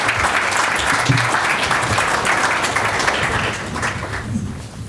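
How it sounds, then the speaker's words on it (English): An audience at a panel on employer cannabis rules applauds steadily, a dense wash of many hands clapping at once that holds for several seconds, then eases slightly toward the end. "Give him a round of applause, everybody."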